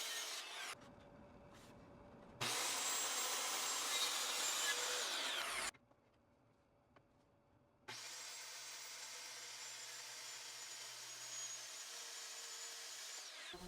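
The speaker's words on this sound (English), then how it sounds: "I cut the top down to length with a straight edge and my circular saw" A circular saw guided along a straight edge cuts a poplar table top to length in two long, steady whining passes with quiet gaps between, heard alone without talking.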